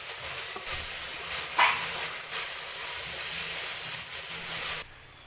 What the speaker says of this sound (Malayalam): അപ്പോൾ നമ്മൾ നന്നായിട്ട് ഇളക്കി കൊടുത്തിട്ടുണ്ട് ഇളക്കി ഇങ്ങനെ മിക്സ് ചെയ്ത്